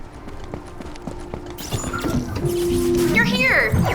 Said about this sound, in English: I memorized the sound of your footsteps.